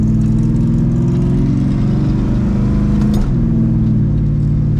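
Engine of the Nacho Cuda, a Plymouth Barracuda freshly repaired with new rockers and shafts, drones steadily inside the car while driving around town, a loud continuous low hum with a brief shift in pitch near the end and no talking.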